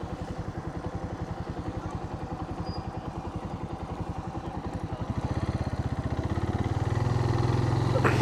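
A Suzuki TU250x single-cylinder motorcycle thumps in an even, rapid rhythm while riding through downtown streets, the engine note rising and growing louder toward the end, close and without talk.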